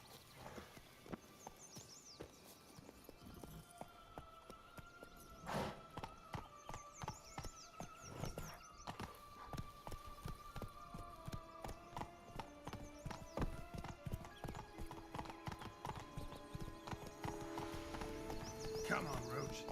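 Rhythmic hoof clip-clops of Roach, the horse in a Wild Hunt video game, walking and picking up pace, with an occasional whinny and voices talking over the steady hoofbeats.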